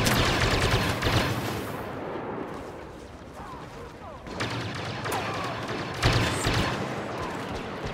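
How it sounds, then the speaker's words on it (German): Bursts of video game gunfire, rapid loud volleys that stop and restart in roughly three clusters, with someone talking over part of it. "Jetzt habe ich wieder daneben geschossen"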